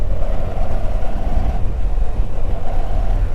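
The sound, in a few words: Moto Guzzi V85 TT motorcycle engine accelerating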